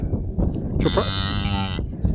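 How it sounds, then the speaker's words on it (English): Cow mooing while giving birth on a farm, a long drawn-out low moo rising in the middle, close and loud, with rustling and faint background noise around it. "We have another cow giving birth here."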